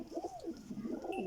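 A Rampuri pigeon gives a short, soft cooing phrase close by, two quick rolling coos in quiet surroundings.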